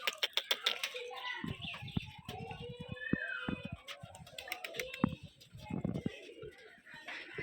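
Pigeons pecking at crushed brick chips, giving quick irregular pecking taps and soft rustles, a few wing flaps and low coos, close by with a voice talking over parts of it.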